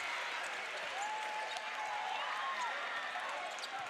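A college basketball crowd at an FIU versus Florida Atlantic game applauds and murmurs in a steady, broad wash of clapping, heard at a distance under an announcer's voice.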